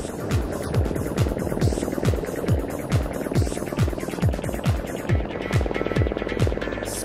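A helicopter flies over a ski resort construction site in the mountains, its rotor beating in a fast, even throb that stays loud and steady throughout.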